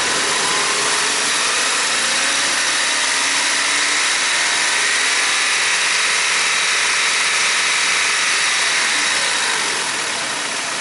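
An engine is revved up and held at speed, a continuous, close, loud mechanical drone with a bright hissing edge that stays fairly even throughout.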